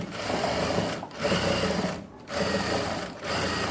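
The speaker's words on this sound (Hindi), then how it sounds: "पहले लगानी है एक सिलाई और उसके बाद आपको दूसरी सिलाई लगानी है" Sewing machine stitching lace onto a garment neckline, a steady mechanical whir in three runs separated by brief pauses, close and fairly loud with no talk.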